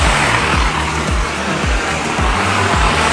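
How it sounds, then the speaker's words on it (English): A street sweeper passing close by on a street, its loud broadband roar of motor and brushes constant, with a repeating rhythmic low thumping throughout. "So I'm gonna wait till the street sweep goes by,"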